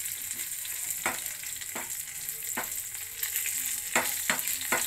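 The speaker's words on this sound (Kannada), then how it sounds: "ಕರಿಬೇವು ಚಟ್ಪಟ್ ಅನ್ನಬೇಕು, ಜೊತೆಗೆ ಒಣ ಮೆಣಸಿನ್ಕಾಯಿ ಹಾಕ್ತಾ ಇದ್ದೀನಿ. ಎರಡು ಸಹ ನೀಟಾಗಿ ಫ್ರೈ ಆಗಬೇಕು." Curry leaves and dried red chillies frying in hot oil for a raw mango tempered rice, a continuous loud sizzle with sharp pops and spluttering bursts scattered throughout.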